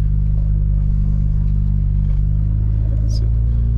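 A BMW E92 335i with a swapped-in DCT gearbox and no power steering drives along, its engine a loud, constant low rumble with drivetrain clatter, heard from inside the car.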